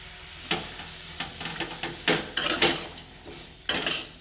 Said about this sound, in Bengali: চার 5 মিনিট ভালোভাবে সবজি দিয়ে চিকেন দিয়ে কষিয়ে নিতে হবে